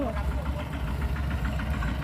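Engine of a rice threshing machine truck at a harvest runs steadily with an even, knocking rumble, and voices are heard over it.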